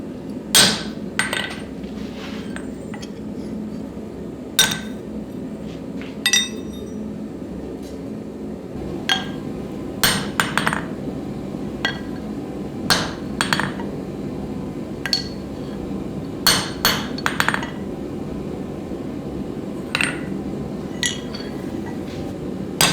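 A cross peen hammer is hand-forged using a hammer and a flatter. Sharp metallic strikes ring out at irregular intervals, some in quick pairs, over a low background hum.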